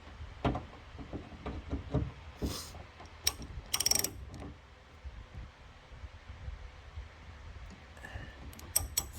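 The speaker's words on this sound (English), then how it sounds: "now that we've got the deep socket, there we go. It's fairly easy to unscrew." Ratchet with a deep socket loosening the 10mm door handle bolts on a first-generation Scion xB, giving quick clicking bursts of pawl ratcheting with short pauses, close and fairly clear, with no talking.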